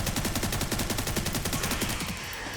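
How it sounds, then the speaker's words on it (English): Rapid SMG fire from Resident Evil 9, a long sustained burst of evenly spaced shots that cuts off near the end, loud and close with no talking. "I decided I was just gonna shoot him with the SMG here"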